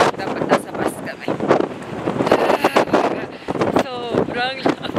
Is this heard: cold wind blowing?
yes